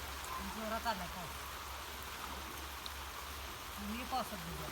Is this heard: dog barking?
no